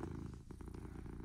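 A cat purrs close up with a low, steady, rumbling vibration that pulses rhythmically throughout and is heard alone without any talking.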